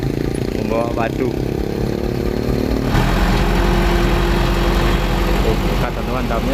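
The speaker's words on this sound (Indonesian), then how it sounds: "Jadi mobil ini membawa batu." A stone-carrying truck's engine runs steadily at road-repair work alongside a motor grader, a loud continuous low rumble throughout, with a voice speaking briefly near the start and end.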